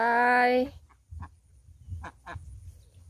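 A loud, nasal honking call from laying ducks on a farm, some of them molting, bursts out at the start, followed by softer scattered quacks and rustles nearby.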